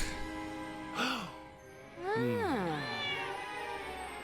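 A cat meows several times in the LEGO Harry Potter game, one short mew followed by a pair of longer, wavering meows, close and clear over faint background sound.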